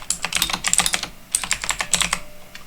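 Rapid typing on a computer keyboard while a command is entered into a terminal, a steady run of close, crisp key clicks with a short pause midway and no voices.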